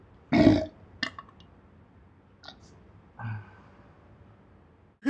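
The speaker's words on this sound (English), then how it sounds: "Got like such a wide range of burps" A person burps repeatedly, with several short, throaty belches of varying size spaced across a few seconds, close and fairly loud in a quiet room.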